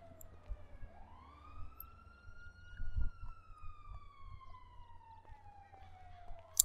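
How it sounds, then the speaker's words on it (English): Wailing police sirens in Grand Theft Auto V Online rise and fall steadily in the distance, a long sweeping tone heard alone over low background rumble. "I can hear the sirens."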